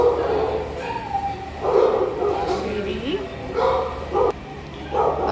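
A three-year-old female dog whimpers and cries in her kennel, giving several short whining yips in bursts, heard close by with some background noise.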